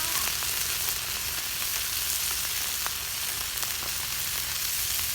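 Catfish frying in a pan of hot oil, a loud steady sizzle and crackle with scattered sharp pops, continuous throughout with no voices.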